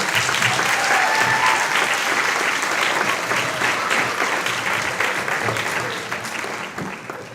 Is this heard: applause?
yes